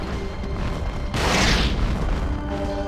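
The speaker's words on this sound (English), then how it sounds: "Flame and fireball. Target destroyed." A destroyed target blows up in MechWarrior 4 Vengeance, a sudden loud broadband boom that swells and rumbles for about a second before fading into steady game background.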